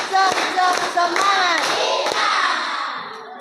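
A group of Indonesian schoolchildren in a classroom perform a rhythmic spirit clap, loud bursts of clapping in counted beats with their voices chanting along throughout.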